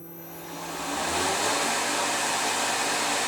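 A Tormach RapidTurn lathe spindle spins up to 2000 RPM in a cool workshop, a broad rushing whir that swells over the first second and then holds loud and even.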